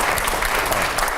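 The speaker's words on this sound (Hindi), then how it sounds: "जोरदार तालियां होनी चाहिए" An audience in a television studio breaks into dense, continuous applause, a loud, wide wash of many hands with a faint crowd murmur underneath.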